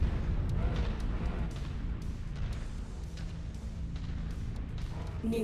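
Explosions in a video game mission, heavy booming blasts and rolling rumble with scattered bursts, continuous and fairly close, with a voice talking underneath.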